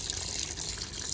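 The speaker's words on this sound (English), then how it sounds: "so they start the water" Water rushing steadily into the drum of a Sharp ESX159 top-load washing machine as it starts filling, a constant close hiss and splash with no talk.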